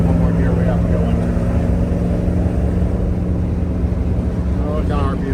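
A hot rod engine runs steadily in third gear around 2,700 RPM on a road drive, a loud, low continuous drone with wind rush, as people talk over it.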